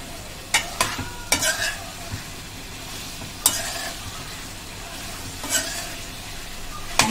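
Chicken 65 in gravy sizzles in a pan while a utensil stirs it in scattered scraping strokes, the sharpest clinks at the start and one near the end, with a steady frying hiss underneath and no talking.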